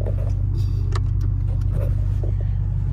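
A truck sits idling in park while winching a dumpster onto a trailer on grass, a loud steady low engine rumble with a few light clicks and rattles on top.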